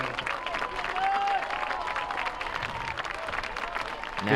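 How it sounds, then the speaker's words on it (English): A football crowd at a Hillsboro versus Haven Wildcats game applauds an injured player, a steady wash of clapping with light cheering that swells again at the end. "A round of applause for number 1, Nash Ray."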